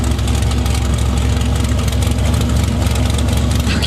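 A 1932 Ford Coupe hot rod with open headers idles loud and close, a steady rumbling exhaust with a rough, lopey pulse and no voices over it.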